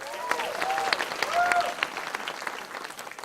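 An audience breaks into warm applause at a George Burns tribute, dense clapping that swells near the middle and then tapers off, with a few higher tones sounding over it.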